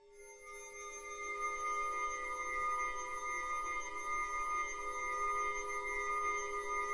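Spooky House of Mirrors shimmer loop from the video game Fortnite: a steady, eerie layered tone of sustained high pitches that swells in gently and hangs at moderate level, no voices.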